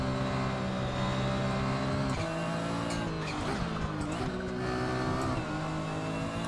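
Race car engine in the Assetto Corsa racing game, a loud continuous drone with engine pitch climbing and dropping through gear shifts, steady and up close throughout.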